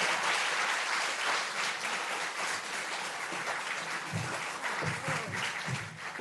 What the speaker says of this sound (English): Let's give more applause for Hope as she comes on stage.